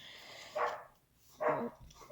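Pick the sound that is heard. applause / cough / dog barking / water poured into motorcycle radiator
dog barking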